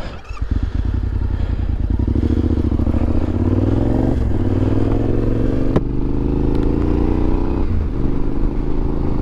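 Yamaha Tenere 700 motorcycle pulling away on a desert road in Death Valley, with a loud close engine that chugs, then revs up and holds a steady rising drone as it rides off.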